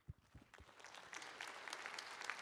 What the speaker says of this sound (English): I invite you to join me in thanking our panelists with a round of applause